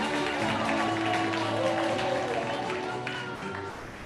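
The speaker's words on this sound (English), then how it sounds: "Another round of applause for Busiso." Steady applause from a large crowd at a graduation ceremony fills the space, with voices murmuring underneath and the clapping easing slightly toward the end.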